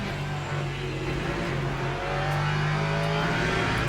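Race car engines in the Le Mans Ultimate sim racing game, with hypercars and a Mustang on track, drone loudly and steadily with a rising rev near the end, no voice over them.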